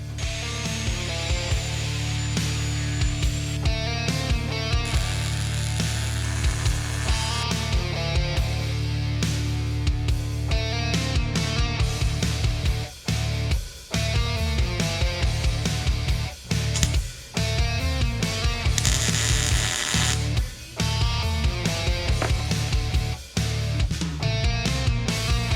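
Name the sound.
grinding down and cleaning up a Jeep axle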